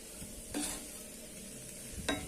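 Ground moong dal being stirred into a frying potato kara curry, a quiet background sizzle with two short scraping stirs of a spoon in the pan, faint and close.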